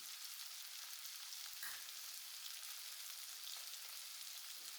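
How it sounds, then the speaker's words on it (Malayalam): Tomatoes sautéing in a hot oiled pan, a steady close hiss of frying with an occasional faint stir, alone without talk. "നമുക്ക് തക്കാളിയും ചേർത്ത് ഒന്നുകൂടി വഴറ്റിയെടുക്കാം."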